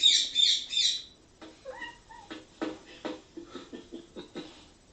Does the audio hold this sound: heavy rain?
no